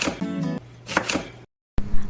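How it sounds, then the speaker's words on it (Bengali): Raw green mangoes being peeled for a salad give short, close, crisp scraping strokes in quick bursts, broken by a brief pause before one more stroke. "আমগুলোকে ভালোভাবে ছিলে নিলাম।"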